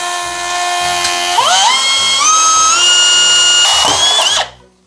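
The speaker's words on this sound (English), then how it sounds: "So the idea that I have is to drill with a hole saw." A power drill drives a hole saw through a metal box, a loud whining grind that rises in pitch as it bites, then cuts off near the end.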